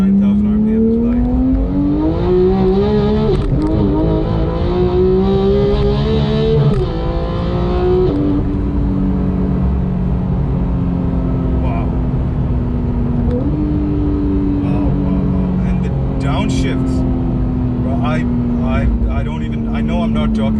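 A Porsche 911 GT3's 4-liter flat-six revs up hard toward 9,000 RPM, a loud rising engine wail that climbs, shifts and holds high, with a voice speaking under it.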